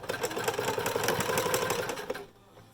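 A sewing machine back-stitches fabric for a homemade face mask, a fast, steady mechanical chatter of the needle close by for about two seconds before it stops, with no talking.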